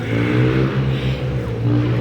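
Mopeds and motor traffic ride through a city street, a loud, continuous droning engine hum close by with a shifting pitch as vehicles pass.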